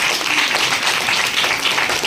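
A church congregation claps loudly and steadily together at a Sunday gathering, a dense continuous wash of applause with no pause and no clear voices.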